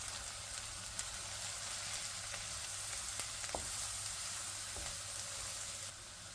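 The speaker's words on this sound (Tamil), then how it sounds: "இப்போ இதோட நாங்கள் வெங்காயத்தை போடுறோம்." Onions and flour frying together in a pan, a steady quiet sizzle with a few faint clicks of stirring, continuous throughout and without voices.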